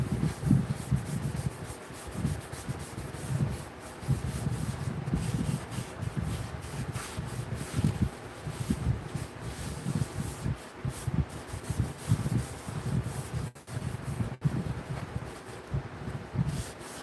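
Abrasive rubbing and sanding continues steadily and close up for the whole stretch, a dense low scratchy texture with brief pauses, with no talking.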